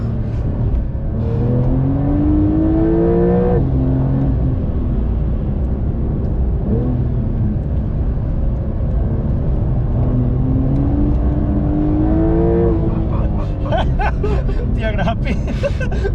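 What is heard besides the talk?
Porsche 911 Carrera 4 (992) engine accelerating hard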